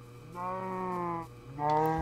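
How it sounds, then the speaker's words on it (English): Cows in the video game Minecraft moo twice: a long, low moo and then, after a brief gap, a second louder one. The calls are close and clear with no talking. "Tons of cows over here."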